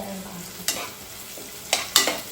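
Onions frying in a pan until brown while a tomato bath is cooked, with a soft background sizzle and a few sharp scrapes of a spoon stirring against the pan.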